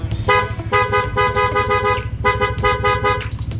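A loud Yamaha NMAX V2 scooter horn with an aftermarket loud horn blares in two long bursts with a short gap between, harsh and close, over a steady idling engine.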